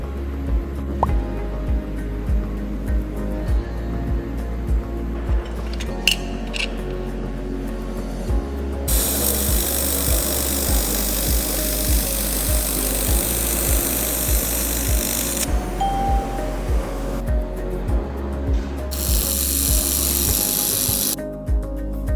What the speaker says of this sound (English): There was no high temperature melting phenomenon when welding thin aluminum materials.